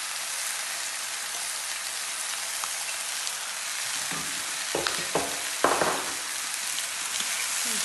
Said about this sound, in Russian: Можно добавить чеснока для вкуса, обжарить его слегка,